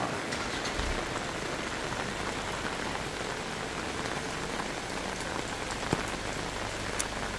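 Rain falls steadily around a mountain village house, a dense even patter on surfaces with occasional louder drips, continuous throughout.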